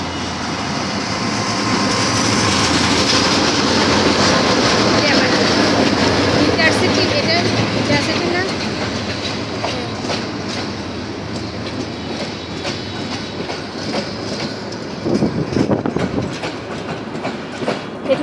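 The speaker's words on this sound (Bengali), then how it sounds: "এই যে এখন আমরা ইন্টারসিটি ট্রেন দেখতে পাচ্ছি, আসতেছে ট্রেনটা" A Bangladeshi intercity train rolls past near an airport residential area, with a loud, sustained roar and rhythmic wheel clatter building over the first seconds and then continuing, while people talk faintly in the background.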